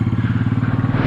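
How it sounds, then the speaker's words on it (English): A small Royal Enfield Meteor 350 motorcycle engine idles close by with a fast, even, throbbing putter that holds steady the whole time. "that is a nice sounding engine for such a small bike"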